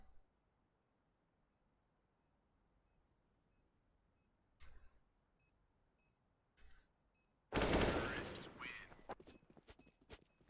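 Gunfire in a competitive shooter game match, a few sharp isolated shots followed by a loud dense burst near the end, with faint beeps between them.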